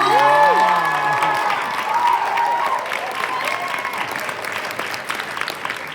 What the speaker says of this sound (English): Can we give a round of applause for Jules?